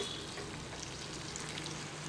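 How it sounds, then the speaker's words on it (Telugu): Tomatoes and onions frying in a pan for an egg masala curry give off a steady, soft sizzle that holds level for the whole stretch, close by but fairly quiet, with no talking. "ఇప్పుడు అందులో టమాటాలు, ఉల్లిపాయలు కూడా వేసుకొని వాటిని కూడా కాసింత కలర్ మారేటంత వరకు వేగనివ్వాలి."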